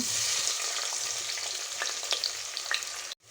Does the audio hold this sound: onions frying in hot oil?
yes